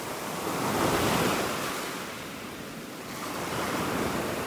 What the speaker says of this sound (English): The waves are making their way up here now.